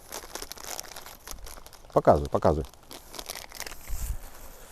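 American MRE ration packet crinkling as its contents are poured out, a short burst of plastic rustle near the mic with people talking quietly around it.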